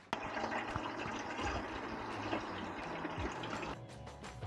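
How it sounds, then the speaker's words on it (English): Ordinary tap water pours steadily into an emptied metal fuel tank being restored, a continuous close, rushing fill with splashing that stops abruptly near the end. "I'm going to fill this with water and then empty it out just to get rid of that nasty bit of fuel."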